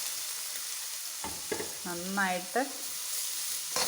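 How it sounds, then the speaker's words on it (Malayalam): Ginger fries in hot coconut oil, a steady close sizzle running throughout as a voice speaks briefly over it. "ഇഞ്ചി വറുത്ത് കോരിയെടുക്കണം"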